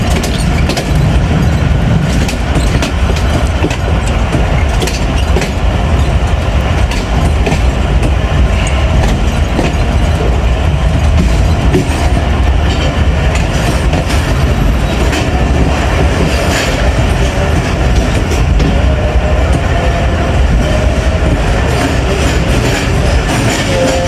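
A train runs along a single-track railway loop line near a junction, heard from on board as a loud, continuous rumble with clattering wheels and occasional metallic squeals.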